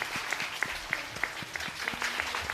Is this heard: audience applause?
yes